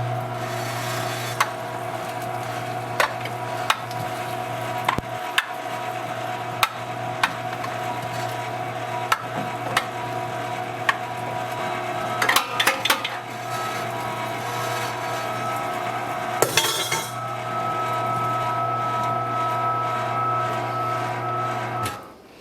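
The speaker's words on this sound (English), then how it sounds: "Alright, back on with the grinder." A meat grinder works through wild turkey and bacon for breakfast sausage, its motor holding a steady close drone for the whole stretch while sharp clicks and knocks from the feed break in at intervals, with no talking.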